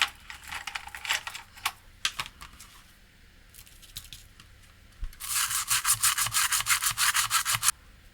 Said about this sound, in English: Let's clean these sockets